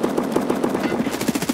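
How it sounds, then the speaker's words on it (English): Rapid automatic gunfire from a weapon in the shooter Escape from Tarkov, about a dozen closely spaced shots in a steady burst, loud and close, with no talk over it. "I unloaded my entire clip in him"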